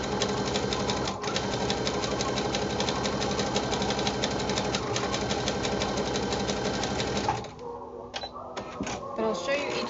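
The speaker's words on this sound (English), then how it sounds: "this sewing machine is such a godsend" A sewing machine runs steadily while Christmas craft presents are being stitched, a dense continuous mechanical whir at close range for about seven seconds before it stops and leaves quieter handling sounds.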